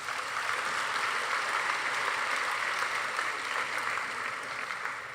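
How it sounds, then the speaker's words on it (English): Audience applause fills a class night ceremony honoring graduating seniors, a steady, dense wash of clapping that holds at an even level throughout with no voices breaking through. "Please give them a big round of applause"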